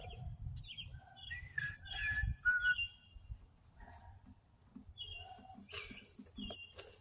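A bird calls with clear whistled chirps and trills, close by, in short phrases with pauses, over a low rumble of outdoor background noise.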